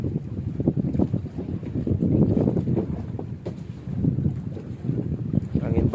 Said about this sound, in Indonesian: Tuh, anginnya mantap sekali ini.